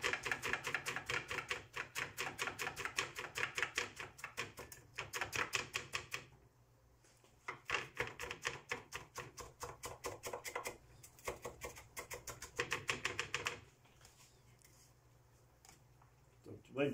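A knife chops fresh coriander on a cutting board for a seafood cataplana, long runs of fast, even tapping broken by short pauses, close and clear, with occasional talk over it.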